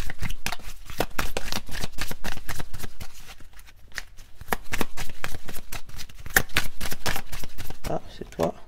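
A deck of oracle cards being shuffled, rapid riffling flutters and soft slaps in quick bursts, close and crisp, with a brief pause midway.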